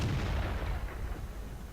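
A single deep boom from the STA-1 tank's main gun in a video game, with a heavy blast decaying into a rumbling tail over under two seconds, alone with no voice.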